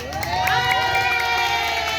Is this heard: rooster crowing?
no